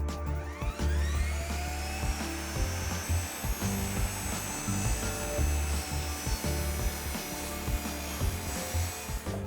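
A miter saw with a negative rake blade runs and bites into wood, a sustained whining hum with rising tonal streaks and bursts of rough, scraping cut noise over several seconds.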